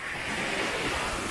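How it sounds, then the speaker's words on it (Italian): Sea waves on the Ligurian coast wash in as a broad, steady roar of surf with wind buffeting the microphone, close and continuous for a moment. "Eccoci ragazzi al mare, Liguria, spettacolo."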